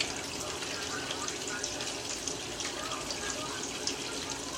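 Water pours in a steady, loud rushing stream into a tank during a flash flood experiment, filling it continuously without a break.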